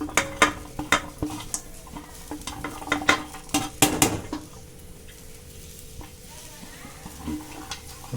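Chopped okra hits a hot oiled pan and sizzles steadily for a Tamil-style okra fry, with sharp clatters and scrapes of a spatula stirring, loudest early and settling into a softer fry.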